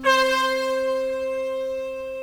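A conch shell tone in the higher octave, played on a Roland XPS-10 keyboard, sounds as a single sustained, brassy horn-like note lasting about two seconds, steady and close.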